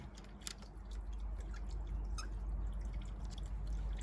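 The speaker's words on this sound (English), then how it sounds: "On a weak flush, that honestly flushes exactly like it would on a tank" A 1981 Eljer toilet with a flushometer making a weak flush, a steady low rushing of water close by after a few soft drips and clicks at the start.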